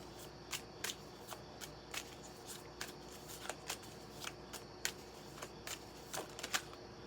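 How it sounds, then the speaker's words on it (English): Tarot cards are shuffled by hand in a steady series of soft riffling flicks and snaps, faint and close, with no talking. "I shuffled."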